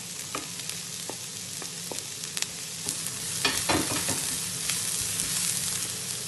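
Carrot and leeks sauté in a pan for Sri Lankan fish cutlets, a steady close sizzle with scattered light taps of a spatula and a brief louder stir in the middle.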